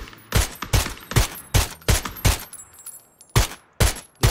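Gunshots in a first-person shooter video game ring out loud and sharp, about nine or ten cracks in an uneven rhythm with short gaps, the later ones spaced wider apart.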